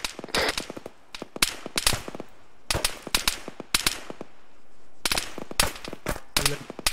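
Dense bursts of automatic rifle and machine-gun fire in an ArmA 3 military squad battle, rapid sharp cracks in clustered volleys with short gaps, loud and close, with faint voices underneath.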